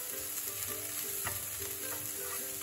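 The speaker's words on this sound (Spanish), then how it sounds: "Vamos a dejar que nuestro huitlacoche se termine de sofreír." Chopped huitlacoche and epazote sautéing in a pan with corn, a steady close sizzle and fry with occasional stirring scrapes, no voices.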